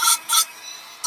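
A gouge cuts into a wooden mug during power carving, giving three short rasping bursts with brief gaps between them, close and alone.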